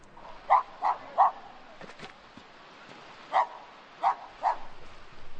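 Dogs barking in an Indian village, several sharp barks in two clusters at moderate distance, with quieter outdoor background between them.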